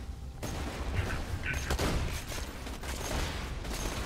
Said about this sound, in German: Casual Shield Explosion ist eigentlich ganz geil